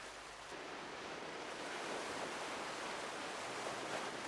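Surf washes steadily onto Seven Mile Beach on Grand Cayman, a continuous broad roar of waves with no voices, as if heard from the shore nearby.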